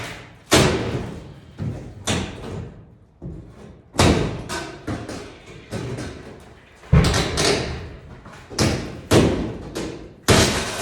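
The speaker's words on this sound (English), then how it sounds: "That slamming door is not helping." A series of heavy door slams and thuds in an industrial building under renovation, about a dozen sharp impacts spaced irregularly, each ringing briefly before fading.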